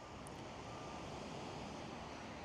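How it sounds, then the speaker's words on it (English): Sea waves washing onto the beach by the promenade at Nice, a steady soft broadband roar with wind over the microphone, faint and continuous with no talking. "The sea, the beach, and the promenade."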